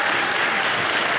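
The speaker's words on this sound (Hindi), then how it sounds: "जोरदार तालियां इनके लिए." Audience applause at a Bollywood film celebration event, a dense, steady wash of clapping from a large crowd, loud and continuous throughout with no speech over it.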